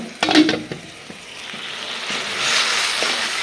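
Spice paste frying in hot oil for pangas fish bhuna, a close crackling sizzle that swells after a few sharp stirring clatters, with no voices.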